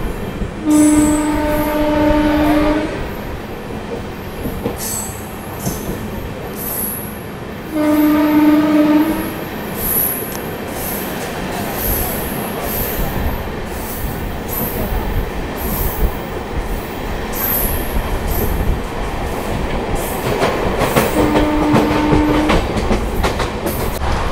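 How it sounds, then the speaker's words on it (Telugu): The Vivek Express passenger train, running Dibrugarh to Kanyakumari, rumbles past steadily, loud and close, with its horn sounding at the start and again later. Wheels clatter throughout. "డిబ్రూగఢ్ నుంచి కన్యాకుమారి వెళ్ళే వివేక్ ఎక్స్ప్రెస్ అయితే క్రాస్ ఓవర్ అవ్వబోతున్నాడు."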